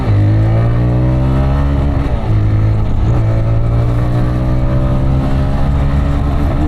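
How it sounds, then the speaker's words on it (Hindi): A TVS Raider 125 motorcycle accelerating hard in eco mode, its single engine note climbing steadily through the revs, briefly dropping at gear changes near two and three seconds before rising again, loud and close. "सबसे पहले इको मोड पे बाइक को लॉन्च करते हैं।"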